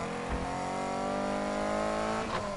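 A car engine in a racing video game, Need for Speed: Heat, drones and revs steadily at close range, its pitch holding high and even, with a brief bump near the start and end.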